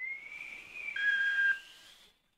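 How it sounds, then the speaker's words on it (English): A kettle whistle sound effect gives a steady, shrill tone that splits into two pitches and then fades out, fairly close and heard alone without talk. "With a magical flourish and a kettle whistle"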